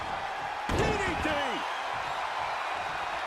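A DDT wrestling move drives down onto the mat with one sharp, heavy slam, then ring noise and a bouncing squeak follow, over the steady hum of a crowd and a commentator talking.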